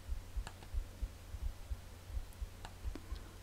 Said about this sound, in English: I can hear heartbeats.